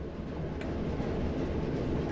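A train runs along the track in Train Sim World 4 on the Preston to Blackpool line, a steady rumbling roar with dense low noise and no voices over it.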